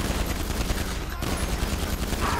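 Dense, continuous gunfire raking an armored Karuma in GTA 5 Online, a rapid unbroken clatter of shots and impacts, fairly loud and steady throughout with a brief dip in the middle.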